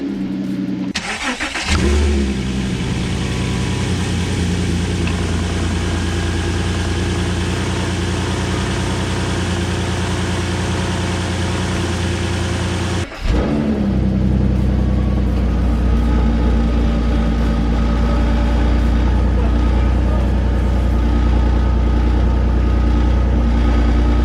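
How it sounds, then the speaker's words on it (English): Porsche Cayenne engine, recorded close up under the bonnet, starting and then running with a loud, steady rumble, with a brief dip and a rise in revs partway through and no voices. "I've got a camera under the bonnet so we can see what this Porsche sounds like."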